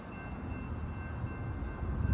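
A train rumbles past a level crossing, a heavy low-pitched roll with faint steady tones above it, constant and fairly distant with no voices.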